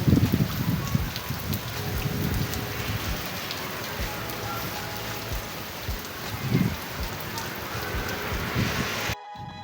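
Steady rain pattering on surfaces, a dense continuous patter with occasional louder gusts and drips, fairly close.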